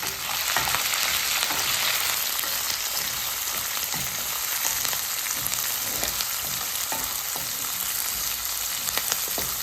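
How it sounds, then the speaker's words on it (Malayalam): Onions, green chillies and shallots sizzle steadily in a pan while being stirred, with a dense, continuous frying hiss and scattered scraping clicks, close and fairly loud throughout with no talking. "ഉള്ളി പച്ചമുളക് ആ ചെറിയ സവാളയും പിന്നെ ഇട്ട് കൊടുക്കണം എന്നിട്ട് നല്ലതുപോലെ ഇളക്കി കൊടുക്കണം"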